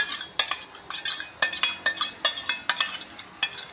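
A spoon stirs yogurt raita with spices in a bowl, giving a quick run of sharp clinks and scrapes against the sides in an uneven rhythm, close and clear with no talk.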